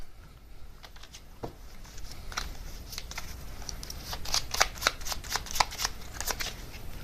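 Tarot cards are shuffled up close in repeated crisp riffling bursts that grow louder and quicker toward the end, over a faint background hiss.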